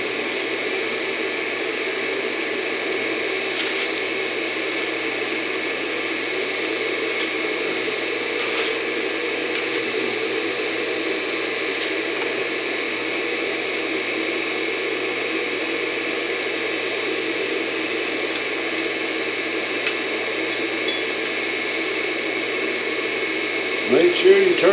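A surface grinder works across a steel block on a magnetic chuck with a dressed wheel, giving a steady, loud, continuous high whine and hiss that holds evenly throughout, with a few small knocks near the end.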